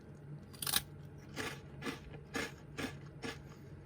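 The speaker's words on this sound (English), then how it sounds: "So I'm gonna give it a bite." Close, crisp crunches as a Happy Turn rice cracker in au lait flavour is bitten and chewed: one loud first bite, then five evenly spaced chewing crunches with no talking.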